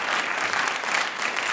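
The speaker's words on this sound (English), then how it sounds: "Give yourselves a round of applause" A live studio audience at a tech talk show gives a steady, dense round of applause, continuous and fairly close throughout.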